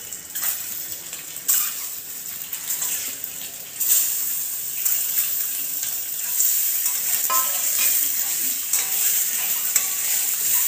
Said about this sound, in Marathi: फ्राय करून घ्यायचे हे अंडे